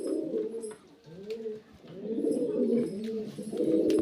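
A breeding male pigeon at a loft gives repeated low, throaty coos in a soft rolling rhythm, close by, with brief pauses between phrases.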